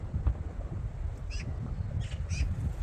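Occasional bird calls, a few short caws or squawks at a distance over a steady low rumble of outdoor background noise.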